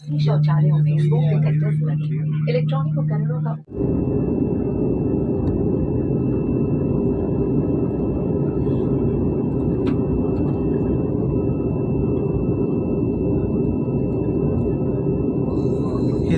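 Airplane cabin on descent into Vizag, a loud steady roar of engine and air noise filling the cabin with a faint high whine, following a brief stretch of voices at the start.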